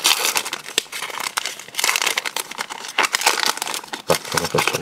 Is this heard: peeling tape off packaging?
yes